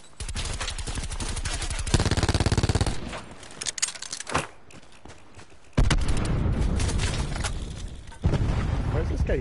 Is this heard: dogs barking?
no